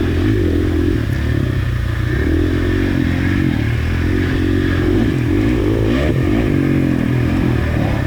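A dirt bike engine revs hard through a hare scramble race in the woods, a loud, close, continuous drone that rises and falls with the throttle, with clattering from the rough ground.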